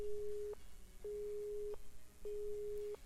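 A phone busy signal sounds after a dropped call in the NekoPara video game: three clear, evenly spaced beeps of steady pitch, each about half a second to a second long, alone with no voices.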